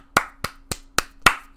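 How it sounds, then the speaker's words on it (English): Five sharp hand claps in an uneven rhythm, close and clear, each with a short ringing tail, with a faint steady hum underneath and no voices. "Clap it up. Clap it up for Joshua Van."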